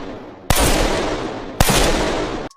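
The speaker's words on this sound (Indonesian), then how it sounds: "Saat Jill sedang latihan menembak, Chris menghampirinya." Gunfire at a shooting practice in the animated film Resident Evil: Death Island, with two loud, sharp bursts that each ring on with a long sustained roar before cutting off.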